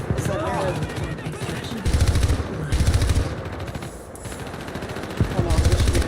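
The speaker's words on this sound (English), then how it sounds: "Hear more shooting. Is that near?" Gunfire in a video game: bursts of rapid machine-gun fire and shots at mid distance, coming in several waves with talking over them.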